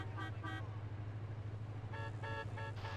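A car horn sounds in short toots, two quick blasts then a few more, over a steady engine hum in GTA San Andreas, with voices nearby.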